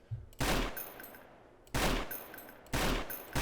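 Weapon fire in the multiplayer game SA-MP (San Andreas Multiplayer): three loud, close bursts spaced about a second apart, each a short rattling spray of shots with faint ringing tails in between.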